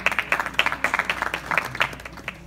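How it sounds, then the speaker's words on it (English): An audience at a Bharatiya Vidya Bhavan community event claps for an organizer, a sparse, uneven patter of individual hand claps at moderate distance, fairly thin rather than a dense roar. "Big round of applause for Dilip as well."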